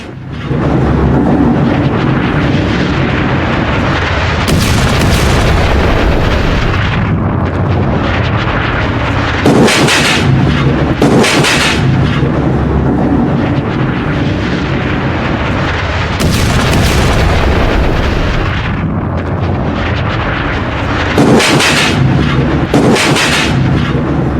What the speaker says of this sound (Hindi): ये लेबनान का गांव है और गांव में एक साथ धमाके हुए।